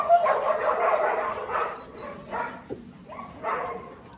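Several dogs in a mountain kennel area make yips, whimpers and short barks that come and go, at moderate distance, with a brief high whine partway through.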